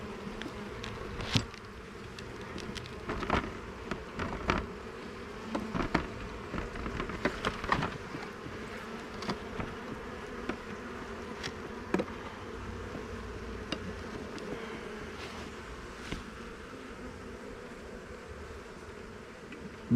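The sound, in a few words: honey bees buzzing around an open beehive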